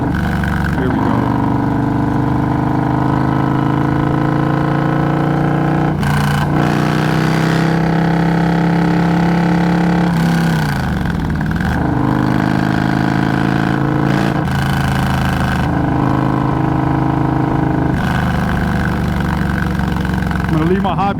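A V-twin 117 motorcycle engine drones steadily and loudly through a daytime POV ride, its pitch rising and falling with throttle changes and gear shifts.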